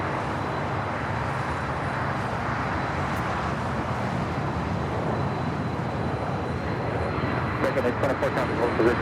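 An Embraer Legacy 500 business jet at LAX, a steady jet engine hiss and rumble at moderate distance, with a voice talking over it and some brief rattling near the end.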